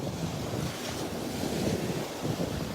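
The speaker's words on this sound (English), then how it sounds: "Still beautiful listening to the waves." Gulf of Mexico surf rolls and hisses continuously on Delnor-Wiggins beach on an overcast morning, mixed with gusty wind rumbling against the microphone, no voices present.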